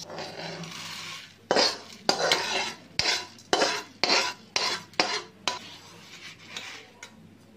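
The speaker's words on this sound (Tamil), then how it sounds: "இந்த ஸ்டேஜில் நம்ம இதை எடுத்து தட்டில் ஆற வச்சிடலாம்." Roasted lentils for idli podi spice powder scraped from a pan onto a plate, a close series of about ten rhythmic metallic scrapes and clinks of a spoon against cookware.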